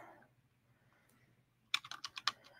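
Computer keyboard typing: after a quiet pause, a quick burst of about eight crisp keystrokes clacks close by in an uneven rhythm, with no talk.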